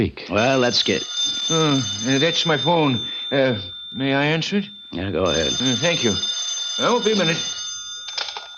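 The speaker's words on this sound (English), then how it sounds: "That's my phone. May I answer it?" In an old-time radio detective drama, a telephone bell rings continuously behind steady conversation as people talk over the ringing.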